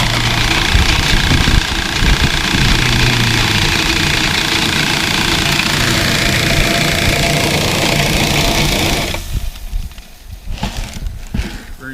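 A bucket loader's engine runs loud and close while soybeans are moved into a holding structure on a farm, a steady idling drone that drops off and turns uneven near the end.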